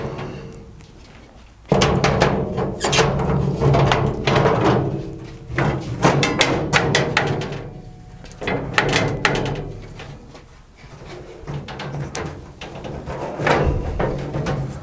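A thin steel sheet is pushed into a 220-litre sandblasting cabinet, making a series of loud metallic scrapes, knocks and thuds at close range, irregular and clustered, with no talk.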